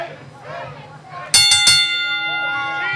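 A wrestling ring bell rings three times in quick succession at the start of a main-event match, loud and close, leaving a ringing tone that hangs over steady crowd chatter.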